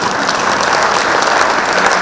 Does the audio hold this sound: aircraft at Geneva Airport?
no